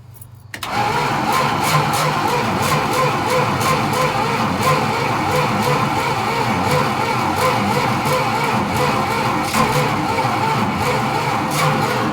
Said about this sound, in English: Let's throw some gas down its throat and see if she might start up.